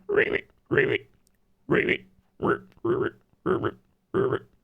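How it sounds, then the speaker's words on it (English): Toad croaks from the My Singing Monsters game soundtrack, sung as vocal sounds: seven short, throaty croaking bursts in an uneven rhythm, close and clear with nothing else beneath them. "if you wanted the sound of a toad, I think that was a little bit higher"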